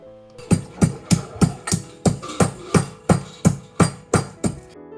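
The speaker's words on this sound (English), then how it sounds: "While this is cooking, I'll grind some cardamom." Cardamom is pounded, likely with a mortar and pestle, in about ten sharp, evenly spaced strikes heard up close. There is no speech.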